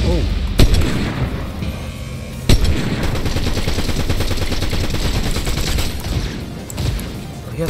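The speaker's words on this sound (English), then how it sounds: "Oh, he has a shotgun." Shotgun blasts in Fortnite, two sharp loud reports early on over a dense bed of rapid game gunfire, with another burst near the end.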